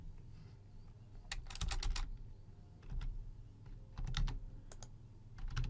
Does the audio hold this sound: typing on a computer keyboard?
yes